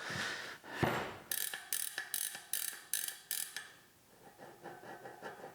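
A carbon bicycle wheel with worn bearings being spun by hand, giving a close, faint run of rapid clicking ratchet-like ticks in quick bursts, then a softer, slowing freewheel rattle.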